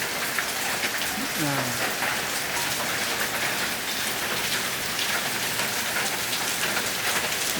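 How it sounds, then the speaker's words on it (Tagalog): Steady, light early-morning rain hisses evenly on surfaces outdoors, a constant wash with a faint voice briefly audible beneath it. "Ayan, mahina na ulan ngayon."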